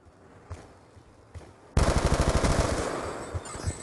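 Call of Duty gunfire: a couple of scattered distant shots, then a sudden loud, close burst of rapid automatic fire that rattles on steadily for about two seconds before tapering off.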